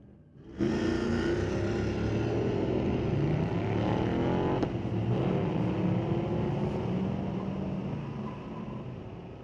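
A 1984 Camaro and a Mustang roar down a street-legal drag strip at Mission Raceway Park, a loud sustained engine howl starting abruptly and holding steady before fading slightly at the end.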